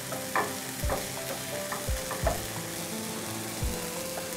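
Tomatoes cooking in a pan, a soft, steady sizzle under repeated spoon stirs and scrapes, about six distinct thuds spread across the stretch, close and fairly quiet with no talking.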